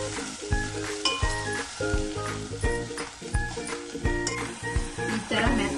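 Dill leaves frying in a pan with turmeric and salt, a loud, steady close sizzle with occasional stirring scrapes and no talk over it.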